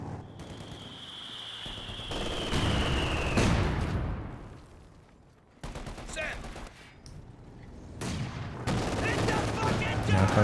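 .50 cal machine guns firing in the game Company of Heroes 2 during a 1v1 match: sustained rattling bursts with a brief lull midway, dense and loud, and a voice faint underneath.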